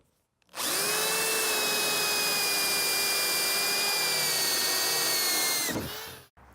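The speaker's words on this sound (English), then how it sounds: "we're going to drill a hole right here in this corner" A power drill spins up and whines steadily for about five seconds, close and loud, boring a hole in a wood panel, then winds down abruptly into a brief rattle.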